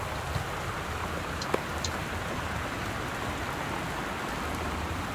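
Steady torrential rain with wind in the video game Gone Home, a dense even hiss of rain on surfaces with a few brief drop ticks, continuous and moderately loud, no voices.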